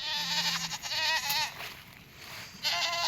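A herd of sheep bleats repeatedly as it crosses a rough bridge in rural Nepal, with several overlapping calls close by and short pauses between them.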